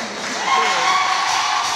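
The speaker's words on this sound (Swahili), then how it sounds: "Jamani, makofi na vigelegele kwa watu." Crowd cheering with high ululating trills at a church choir launch celebration, a short lively burst of shouting voices and applause.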